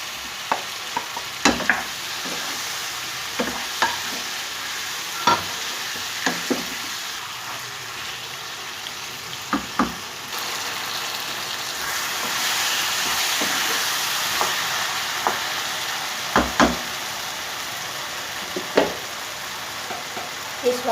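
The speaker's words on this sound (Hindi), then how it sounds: "आलू और टमाटर एक साथ ही भून जाएगा।" Potatoes and tomatoes fry together in a pan for aloo methi, a steady sizzle and hiss broken by the clatter of a spoon stirring at irregular intervals, with occasional speech in the background.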